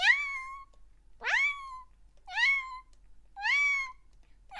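A person imitates a cat, giving four drawn-out, rising-then-falling meows one after another in a steady rhythm, loud and close with no other sound behind them.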